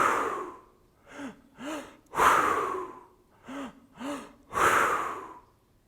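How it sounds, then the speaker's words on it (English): Hyperventilation breathing: fast deep inhalations into the abdomen and lungs, each followed by a hard, forceful exhale, in a steady repeating rhythm, close to the listener with no speech. "inhale to your abdomen, inhale to your lungs, exhale hard and fast"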